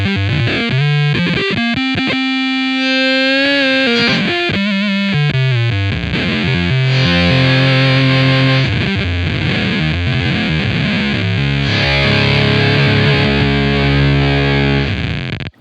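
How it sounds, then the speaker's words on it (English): Electric guitar through a Beetronics Zzombee Filtremulator pedal with its distortion section ramping, loud sustained distorted chords whose gritty, filtered tone sweeps and shifts in intensity over the notes, played alone with no talking. "this is going to let us ramp the distortion section."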